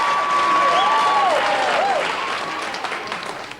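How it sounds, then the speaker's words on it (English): Studio audience applause at a 1987 televised stand-up comedy show, a dense wash of clapping that gradually fades, with a whistle-like tone and faint voice over it early on. "Oh, the wind from your applause."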